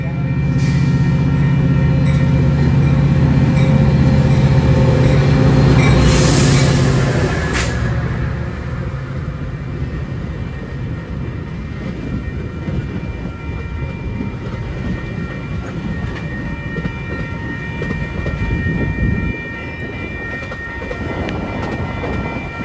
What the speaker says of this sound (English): Our next train would be another outbound, this one being Metro outbound number 655, another OTC to Harvard.